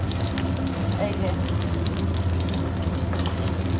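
Teasel gourd (kakrol) frying in hot oil, a steady close sizzle and crackle running throughout, with someone speaking over the cooking.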